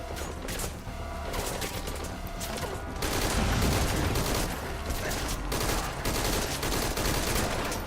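Sustained rifle fire in Metal Gear Solid V: Ground Zeroes rattles in dense continuous volleys over a busy game soundscape, growing heavier partway through.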